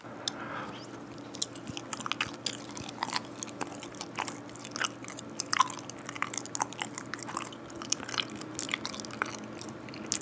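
Close-up chewing of a sweet potato ice cream flavored rice cake from a Korean convenience store, soft sticky squishes and bites repeating steadily and quietly with small mouth sounds throughout.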